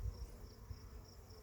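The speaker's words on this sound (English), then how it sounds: "There's a lot of bees in here." Honey bees inside a beehive, a faint steady buzzing hum with low rumbling handling noise, heard close up with no voices.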